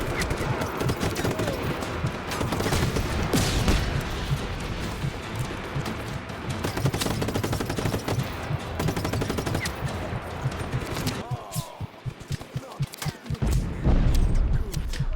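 Dense, continuous gunfire and booming explosions fill a firefight in the video game Just Cause 3, rapid automatic bursts layered loudly throughout with no pause.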